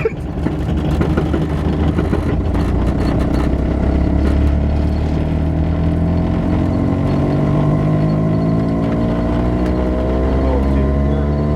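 An old Renault, revived after nine years abandoned, runs with the accelerator floored, its engine giving a loud, steady drone with rising harmonics that holds the whole time.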